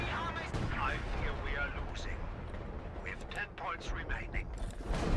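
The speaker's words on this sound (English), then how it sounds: "The mortar half-tracks trying as best they can to get those barrage going on the enemy side" Mortar half-tracks lay down an artillery barrage in the Company of Heroes 2 war game on the Rails and Metal map: repeated muffled blasts and mechanical rattling rumble in the background while a voice talks over them.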